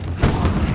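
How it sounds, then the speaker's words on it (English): A heavy, booming burst of gunfire from The Quarry hits suddenly after a quiet moment, then rumbles on with low, dense blasts. "you didn't hear the gunfire?"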